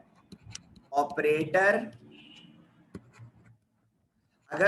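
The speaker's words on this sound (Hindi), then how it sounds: "देखो मैं यहां पे लिख रहा हूं" Writing on a board during a computer science lesson gives soft scratchy strokes and taps, close and fairly quiet. Someone speaks over part of it, and there are pauses in between.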